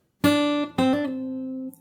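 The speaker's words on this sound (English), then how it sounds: "So you do a hammer on and pull off" A fingerstyle guitar sounds a clear plucked note, then a quick hammer-on and pull-off that rings on and fades, alone and close.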